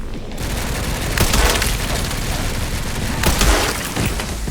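Sustained bursts of heavy gunfire from the Resident Evil Requiem video game, dense rapid shots with louder booming peaks, continuous and loud throughout.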